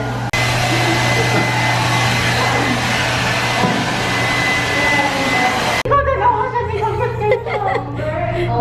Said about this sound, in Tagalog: It's a blower. I-blow dry ang hair.